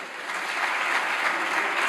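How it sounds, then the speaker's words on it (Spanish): A parliament chamber fills with sustained applause, a dense, even wash of clapping from many hands that continues throughout. "ustedes aplauden cualquier cosa y aplauden a cualquiera"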